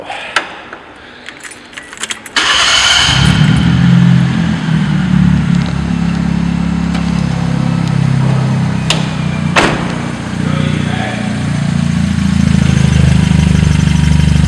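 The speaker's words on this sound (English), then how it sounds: "So you'll hear when I crank this thing up, it actually has a decent rumble to it." A 660cc kei car with a motorcycle sport exhaust cranks over and fires up, then settles into a loud, steady low rumble at idle after a couple of seconds of quieter clatter and jingling.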